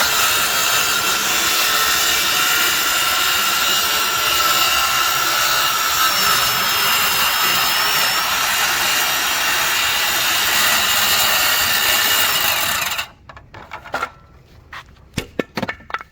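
A reciprocating saw cuts deck wood in a steady, loud, continuous buzz for about thirteen seconds, then stops, leaving a few scattered knocks and clatters.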